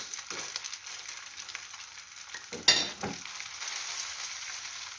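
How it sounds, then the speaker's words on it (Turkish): Leftover noodles frying in a pan while being pressed down with a spoon: a steady, fairly quiet oily sizzle with a brief louder crackling flare midway, no voices. "Yine bu tarafını tekrar kızartacağım"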